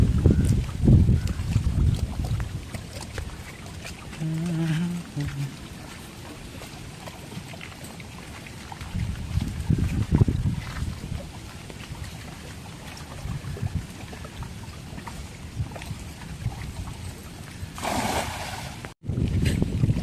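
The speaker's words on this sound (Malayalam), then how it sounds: "കൊടുങ്കാറ്റ് ഭയങ്കര കാറ്റ്" Strong stormy gale blowing along a coastal fishing spot among coconut palms, a loud continuous roar with heavy gusts surging and easing, rumbling wind noise buffeting close to the microphone.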